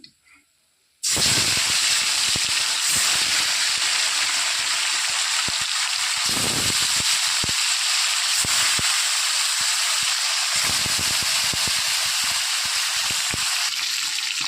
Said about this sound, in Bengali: ওই তেলেই বাকি মাছগুলো আমি ভেজে নেব।